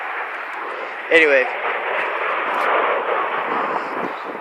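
A C-5 military jet aircraft passes overhead with a broad, sustained roar that swells slightly and stays steady, heard outdoors at a distance beneath someone talking.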